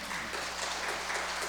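A church congregation applauding a missionary at a Sunday mission service, a steady dense wash of clapping from many hands, fairly faint and continuous through the whole short moment, with no voices.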